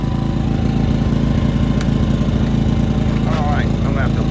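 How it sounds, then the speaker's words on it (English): A Powerhorse 2300i inverter generator drones steadily under the load of an air compressor, a constant close engine hum with a faint squeal near the end. "we'll see if when the air compressor kicks on that the generator RPMs come up to meet the load"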